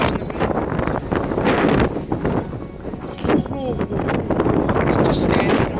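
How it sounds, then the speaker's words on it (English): A strong windstorm in town with dust picking up roars and buffets the microphone in loud, continuous gusts, while a person talks over it. "It is windy."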